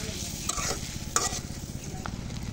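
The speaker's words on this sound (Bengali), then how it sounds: "এখন ডিমগুলো লালচে করে ভেজে নেব।" Boiled eggs frying in hot oil in a pan, with a steady dense sizzle running throughout, broken by a few louder stirring scrapes and clinks up close.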